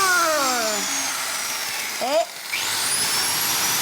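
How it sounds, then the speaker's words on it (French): A small angle grinder runs with a steady high whine that dips and rises in pitch as it spins down and back up, while a person speaks briefly over it. "C'est une meuleuse. Allez, une petite meuleuse."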